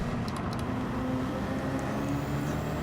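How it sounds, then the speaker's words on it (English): Game car engine in Gran Turismo 7 holding a steady, continuous drone after a lift off the throttle and a downshift, with a low, even engine tone and no sharp rev spike. "I'm going to just do a little lift and downshift here for me."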